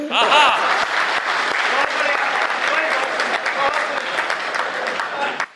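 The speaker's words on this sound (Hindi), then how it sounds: "गलत जगह ताली बजा रहे हो।" Audience applause at a Hindi poetry gathering, a kavi sammelan, with loud, dense clapping from a crowd that runs steadily throughout before cutting off abruptly at the end.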